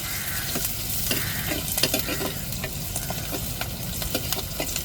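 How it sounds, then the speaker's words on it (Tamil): Curry leaves fry in hot oil in a pan and are stirred, giving a close, steady sizzle broken by repeated scraping and clinking strokes of the spoon against the pan. "கருவேப்பிலை சேர்த்துக்கிடுவோம்."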